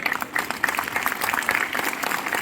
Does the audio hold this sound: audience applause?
yes